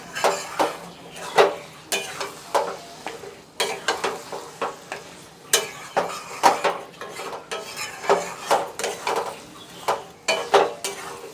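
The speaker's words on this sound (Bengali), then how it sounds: "এবার চিকেনটা আমি কষাবো।" Chicken is stirred and fried in a pan for a curry, with repeated scraping and clattering of a utensil against the pan over a steady sizzle, in close, rhythmic strokes.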